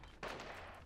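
A single sniper rifle shot in the Gears 5 shooter game, one sharp blast with a short rumbling tail, faint and brief.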